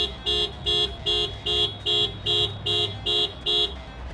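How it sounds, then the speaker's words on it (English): The horn of a 2017 Subaru WRX STI Limited, set off by the panic button, beeps in a steady series of about nine short, evenly spaced honks, loud and close, with faint background rumble between them. "it beeps the horn and flashes the lights"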